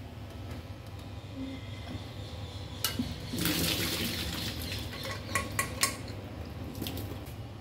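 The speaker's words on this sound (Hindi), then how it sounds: "इसको ना मैं अभी छान लेती हूँ, इसका पानी एक्सेस जो भी है वो हम निकाल देंगे" Boiled peas are strained in a kitchen, water pouring and splashing through a strainer with clinks of metal pots and utensils, fairly faint and close, with no voices.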